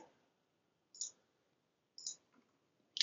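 Three sharp, isolated computer mouse clicks about a second apart, close and quiet, with near-silence between them and no talking.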